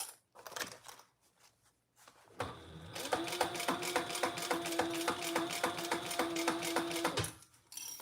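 A sewing machine stitches a trifold wallet in one steady, rapid run of mechanical pulses lasting about five seconds, close and clear, after some brief handling noises.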